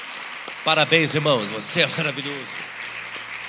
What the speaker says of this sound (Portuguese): Vamos aplaudir você?